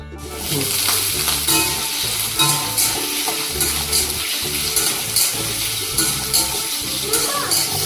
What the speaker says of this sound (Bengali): আগে আলুটাকে ভেজে নেব